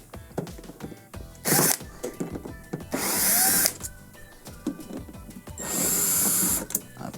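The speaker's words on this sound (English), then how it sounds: "we are going to start by removing the 6 T20 screws along the sides here on the panel" A power screwdriver whirs in two sustained bursts while backing T20 screws out of the side panel of a Samsung dishwasher, with clicks and handling knocks between runs and no talking.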